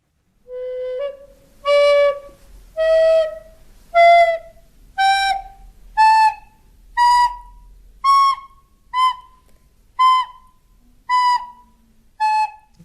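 A flute plays a slow sequence of about eleven separate sustained notes, each clear and breathy, stepping gradually upward in pitch with short pauses between.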